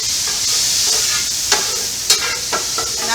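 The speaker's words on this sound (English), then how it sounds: "if you saved a little broth, you can add a little broth now. Kind of steams it the rest of the way through." Broth added to a hot stir-fry pan with sage: a steady, bright sizzle and steamy hiss fills the clip, broken by a few sharp clicks and scrapes of stirring, close by with no talking.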